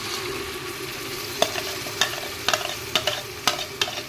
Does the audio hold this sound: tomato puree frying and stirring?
yes